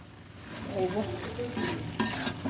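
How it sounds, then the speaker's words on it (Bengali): Broth hitting a hot pan with a soft sizzle and light stirring scrapes, faint and close, with a couple of brief brighter clinks near the end. "এখন আমি এখানে ঝোলটা দিয়ে দেবো"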